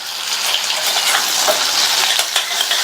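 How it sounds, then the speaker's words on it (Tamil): Eggplant pieces sauté in oil with salt, giving a steady, close crackling sizzle with soft scraping stirs running through it and no voices. "எண்ணெயிலேயே 2 நிமிஷத்துக்கு இந்த காய் வதங்கட்டும்."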